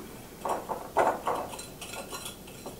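Salt and sugar for scones being mixed in a bowl, a run of close clinking and scraping strokes of a utensil against the bowl in uneven bursts, with no voices.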